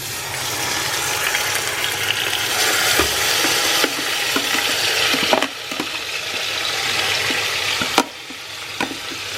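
Green chillies fry with onion in hot oil for chicken dum biryani, a steady broadband sizzle with scattered pops and stirring scrapes, loud and close with no voices.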